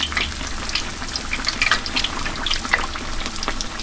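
Fish frying in hot oil in a small pan, a steady dense sizzle and crackle with scattered pops, close and continuous with no talking.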